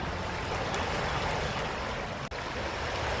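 A natural waterfall on a creek in Southwest Virginia rushes in a steady, dense, broadband wash that fills the scene, close and constant, with one brief dropout and no voices.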